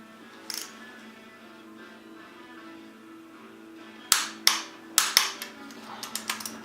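A torque wrench clicks sharply while cylinder head bolts are tightened to the 50 foot-pound stage during an LS engine swap, with five or six crisp clicks in quick succession near the end over a low steady hum.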